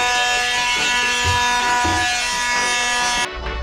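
A power sander grinds down fiberglass and polyester on a sailboat repair, giving a loud, steady, close-up electric whine that holds evenly and then cuts off abruptly near the end.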